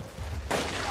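A single gunshot in a police crime drama, a sharp sudden bang midway through the brief moment, loud and close after a quieter low rumble, leaving a bright noisy tail.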